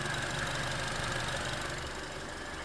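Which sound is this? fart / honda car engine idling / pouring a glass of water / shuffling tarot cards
honda car engine idling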